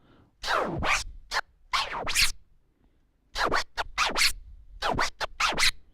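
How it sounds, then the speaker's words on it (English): Turntable scratching in the slow Autobahn pattern, open-close strokes followed by a tap motion, heard as two short bursts of rhythmic vinyl scratches separated by a brief pause, close and alone. "of the slow Autobahn, which consists of at first open close, then follows the tap motion, and then open close"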